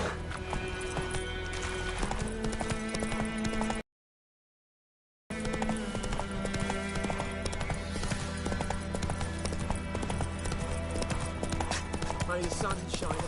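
A horse trots in The Witcher 3, its rhythmic hoof clip-clops steady and near over a tonal musical backdrop, broken by a short stretch of total silence before resuming.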